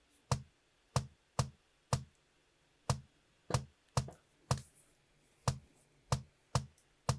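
A sparse drum beat of a basic kick and hi-hat for a South African hit track, with about a dozen crisp, evenly spaced hits ticking along alone at moderate volume.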